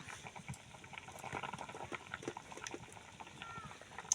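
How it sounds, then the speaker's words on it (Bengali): Fish curry with cumin paste boiling in a pot, a faint, uneven bubbling and pattering that is quiet and close, with no talk. "দেখুন ঝোল ফুটে গেছে"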